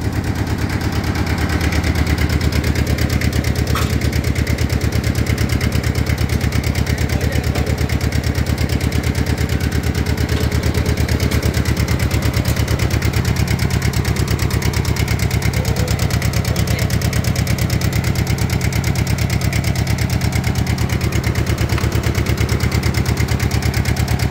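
A motorcycle engine runs steadily at idle, with a continuous low rumble and fine vibration holding at an even level throughout, no voices present.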